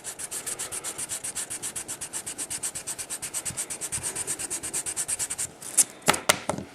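Quick, rhythmic back-and-forth rubbing strokes of a sanding stick being cleaned, close and steady, ending with a few sharper taps.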